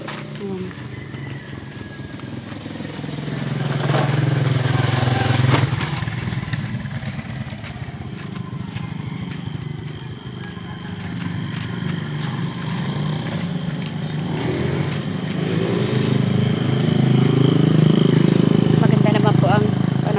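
A motorcycle engine drones steadily nearby, rising and falling slightly as it rides along, with a person talking over it.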